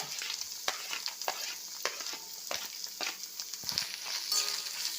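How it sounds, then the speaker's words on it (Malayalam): Onions sauté with curry leaves in a pan for a pan-cooked fish dish, with constant crackling sizzle broken by frequent scraping strokes of a spatula, close and moderately loud. "സവാള നല്ലപോലെ ഒന്ന് വഴറ്റിയെടുക്കണം"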